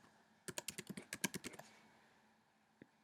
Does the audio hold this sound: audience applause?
no